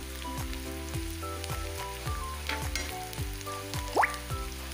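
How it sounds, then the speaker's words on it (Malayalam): Chicken chukka frying in a pan while being stirred until brown, a steady close sizzle with regular rhythmic scraping strokes and a short clatter near the end. "കരിഞ്ഞു പോവല്ലേ ബ്രൗൺ കളർ ആവണ വരെ ഇത് ഇളക്കി കൊടുക്കണം"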